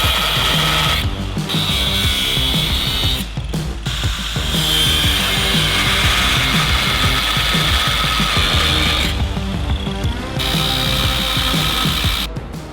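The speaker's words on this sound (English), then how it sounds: "we're gonna use our cutoff wheel to score each head" An abrasive cutoff wheel scores steel rivet heads on a Toyota Tacoma frame during a bump stop install, a loud, continuous grinding whine that holds steady for over twelve seconds with a few brief dips as the wheel shifts between heads.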